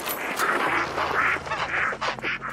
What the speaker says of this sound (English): Hearing demonic ducks quack while I try and stealth through the ponds